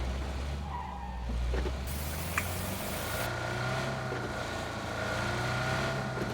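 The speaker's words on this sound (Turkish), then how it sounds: "Araba." A car in the PUBG video game drives with a steady low engine drone, and its tires skid and squeal partway through over a constant rushing background, with no talking.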